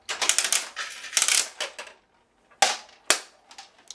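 A Vendstar 3000 triple-head vending machine dispenses in several close, fairly loud bursts of clattering mechanical rattle, then a short silence and two sharp clicks with short rattling tails.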